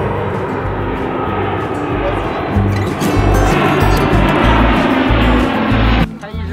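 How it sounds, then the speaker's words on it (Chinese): An airplane passing overhead in rainy downtown San Jose, a loud, sustained engine roar that swells midway and then cuts off near the end, mixed with city traffic noise. "你看天上有飞机。"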